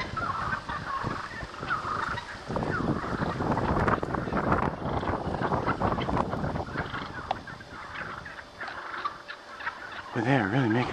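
A flock of wild turkeys gobbles outdoors over wind noise, with repeated rattling gobbles from several birds at middle distance and a clear warbling gobble near the end.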